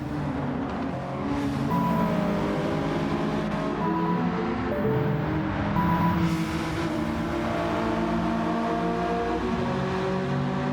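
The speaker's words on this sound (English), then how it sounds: "One of the front-running cars flashes past to put Andrew a lap down." Race cars in Gran Turismo 7 at Bathurst, including front-running Civic and Volvo entries, roar past with a continuous engine drone and rising and falling tones as they flash by.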